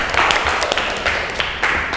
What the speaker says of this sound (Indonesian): Kita berikan tepuk tangan untuk kedua kelompok.